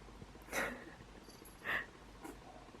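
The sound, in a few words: cat sneezing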